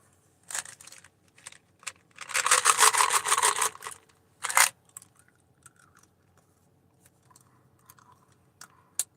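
Gum being chewed close to the microphone makes a few isolated wet clicks, then a dense run of rasping chews, a final burst and quiet scattered smacks.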